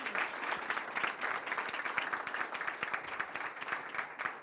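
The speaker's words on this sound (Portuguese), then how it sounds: "Vamos aplaudir o Tony aqui." Audience applause for a speaker named Tony at the Exame Tendências 2025 business event in São Paulo: dense, steady clapping from a sizable crowd in a hall, sustained at even volume throughout.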